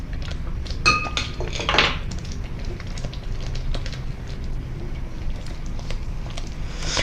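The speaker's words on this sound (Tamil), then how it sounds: "மிளகாய்த்தூளை போட்டு ஒருக்கா கிண்டி விட்டுட்டு" A spoon stirs chilli powder into paneer gravy in a pan, with close metallic scrapes and clinks standing out at the start over a low background hum. No one speaks.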